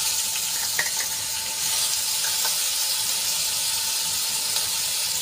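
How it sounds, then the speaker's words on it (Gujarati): Chili and garlic paste sizzles steadily in hot oil in a home kitchen, a constant bright hiss and crackle with a few small pops, close and unbroken, with no talking. "મરચાં અને લસણની પેસ્ટને આપણે થોડીક સાંતળી લઈશું."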